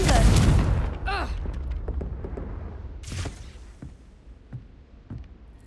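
Confringo fire-blast spell cast in Hogwarts Legacy, a heavy boom up front with a swooping whoosh, then another burst about three seconds in and scattered smaller impacts fading away, with voice sounds mixed through.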